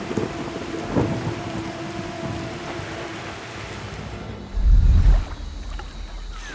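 Heavy nighttime rain and thunder at an outdoor island camp, a constant hiss of downpour with a deep, loud thunder rumble rolling in near the end.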